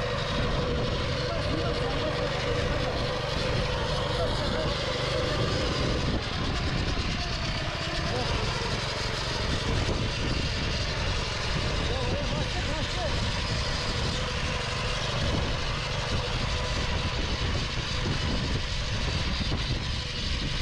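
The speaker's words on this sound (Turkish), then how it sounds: "Daha önce çapa motoru kullandın mı?" Motor hoe tiller engine running steadily and loudly outdoors, a constant rough drone that fills the whole stretch, with people talking over it.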